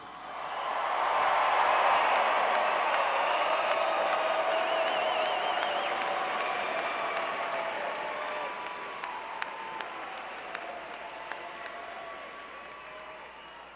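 A big audience claps for new graduates at a Clemson University graduation ceremony, the applause swelling early, holding as a dense roar, then thinning out with scattered distinct claps toward the end.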